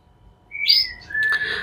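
A white-rumped shama (murai batu), a lively bird, gives two clear, loud whistled song phrases close by, with quiet background and no talking.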